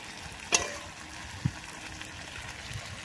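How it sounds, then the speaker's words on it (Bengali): Chicken curry with leg pieces and garlic sautéing in a kadai: a faint, steady sizzle with two brief knocks of a spoon against the pan. "এখন সুন্দরভাবে কষাবো"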